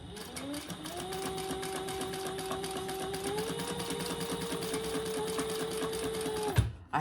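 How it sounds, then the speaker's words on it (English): A sewing machine with black thread runs continuously, stitching fabric scraps with a quarter-inch seam for a wallet. The needle makes a steady mechanical whir that rises slightly in speed, then stops abruptly near the end. "I'm just going to sew, and I made these 12 inches"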